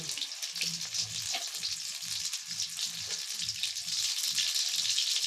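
Potato chips frying in oil in a pan give a steady, close crackling sizzle throughout, with faint low clatter from stirring underneath.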